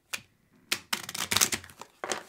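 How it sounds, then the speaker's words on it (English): A deck of cards is shuffled nearby in a few short riffling bursts separated by brief pauses. "So, one more shuffle."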